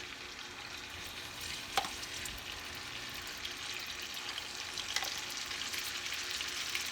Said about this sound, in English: Nothing smells quite so good as garlic and onion sauteing together.